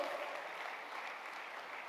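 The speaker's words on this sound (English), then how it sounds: "Let's have a big clap for our Energy Oshiro." Audience clapping at a speaking event: a brief, faint wash of steady applause heard from a distance, continuous and even, with no speech over it.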